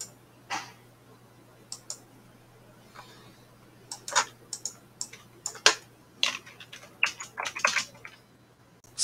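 Sharp, close computer mouse button clicks, some single and some in quick bursts of two or three, spread irregularly over quiet room hum with no talking.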